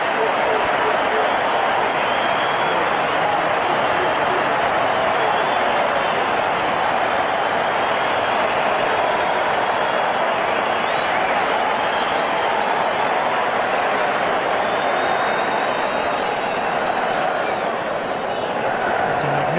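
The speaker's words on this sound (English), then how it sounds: "It's a magnificent ovation for great innings." Stadium crowd at an India vs Australia cricket match applauding at the end of an innings, a steady, dense wash of clapping and cheering throughout, with a commentator talking over it.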